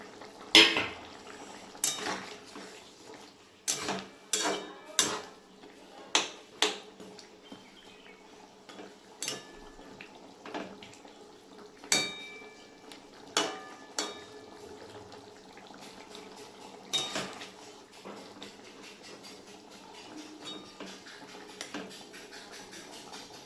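Fish roe fritters dropped one by one into a pot of boiling curry gravy for a potato and pointed gourd dish, giving a series of sharp clinks and soft plops spaced every second or two over a quiet simmer.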